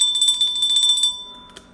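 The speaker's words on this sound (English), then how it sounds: "Let me get the bell for that one." A small hand bell is rung rapidly during a baseball card pack opening, a quick run of about a dozen bright metallic dings that stop abruptly, followed by a single faint tap.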